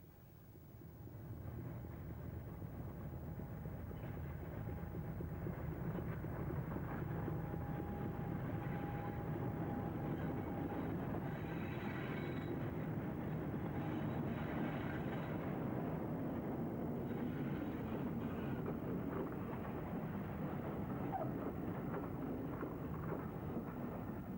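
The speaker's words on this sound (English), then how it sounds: "Here D400 and Glorious leave the terminus at Kingswear" Diesel locomotives D400 and Glorious pull away from the Kingswear terminus, a loud, steady engine roar and rumble that holds at one level throughout, with a faint whistle-like tone partway through.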